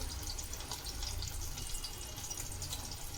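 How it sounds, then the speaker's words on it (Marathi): Water poured onto the lid of a pan in which stuffed brinjals with dried shrimp are steaming; a faint, steady wash of trickling water with no voices. "झाकणावरती पाणी ठेवून द्यायचं आहे"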